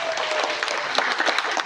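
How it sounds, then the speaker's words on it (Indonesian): Applause from an audience at a formal Indonesian speaker introduction, steady dense clapping that fills the whole short stretch at moderate loudness, with no talk over it. "Tepuk tangan."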